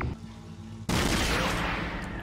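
A pulse rifle in Dead Space opens up after a brief quiet moment, and a loud, dense burst of rapid automatic fire then roars on steadily to the end.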